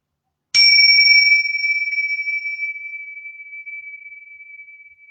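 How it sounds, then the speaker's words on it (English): A bell is struck once and rings out with a clear, pure sustained tone that slowly fades over several seconds in an otherwise silent space. "I'm going to ring this bell"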